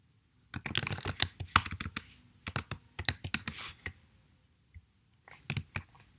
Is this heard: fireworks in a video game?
no